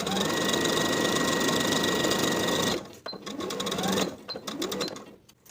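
A sewing machine runs long basting stitches through dress fabric, a fast, even mechanical whir held steadily for several seconds, then stopping and giving way to softer handling clicks and rustles.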